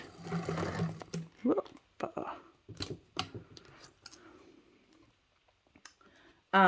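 A home sewing machine bastes clear vinyl with a 1/8-inch seam allowance, heard as short, close bursts of stitching separated by pauses, with a person talking in between.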